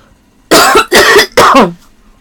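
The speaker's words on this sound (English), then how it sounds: "coughing obnoxiously" Three sharp, loud coughs in quick succession, close up, with silence before and after.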